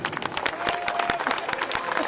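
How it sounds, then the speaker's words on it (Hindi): Crowd applause at the Maha Kumbh gathering, a steady patter of many hands with sharp individual claps standing out, moderately loud and continuous through the short stretch. "तालियां"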